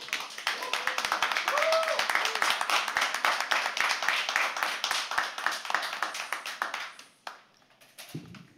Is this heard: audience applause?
yes